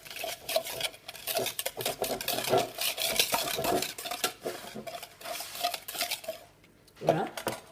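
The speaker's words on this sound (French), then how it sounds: "On va pouvoir mélanger." Yogurt apple cake batter stirred in a bowl with a utensil: irregular scraping and soft knocking against the bowl, close and fairly quiet, with a brief pause near the end.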